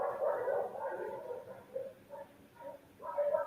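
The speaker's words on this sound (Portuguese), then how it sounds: "Liberdade aos cachorros que continuam latindo aí, com a sua liberdade de expressão." Several dogs bark nearby in irregular bursts, some yips and whimpering among the loud barks, with pauses between volleys and no talking.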